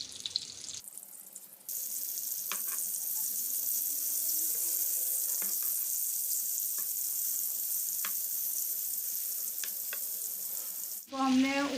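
Stuffed brinjals (eggplants) fry in a pan for a masala brinjal fry, a continuous close sizzle with occasional pops and light utensil clicks, ending in a brief clatter.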